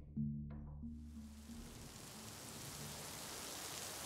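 Heavy rain falls on large trees and leaves in windy weather, a steady broadband hiss that rises in after a brief low musical tone and continues evenly to the end.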